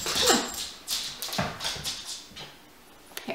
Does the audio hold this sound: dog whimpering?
yes